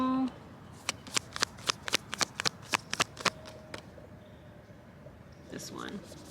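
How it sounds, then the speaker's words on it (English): A deck of cards is shuffled in a quick series of about a dozen sharp riffling bursts. A brief voice comes at the start, and a soft rustle follows near the end. "Last shuffle."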